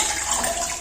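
Tap water running to rinse during kitchen cleaning, a steady loud rush of flowing water throughout with no talk.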